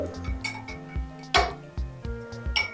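A spoon stirs beetroot powder in a glass, giving a quick run of light clinks and taps against the sides, fairly close and clear, with a faint hum beneath.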